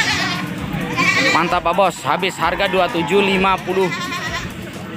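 Goats at a livestock market bleat repeatedly in quavering, nasal cries, close and loud, mixed with men bargaining nearby.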